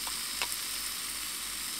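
Thai roasted chili paste sizzles steadily in a hot pan at a camp cooking setup, a close, bright frying hiss with a couple of faint clinks, with no talking.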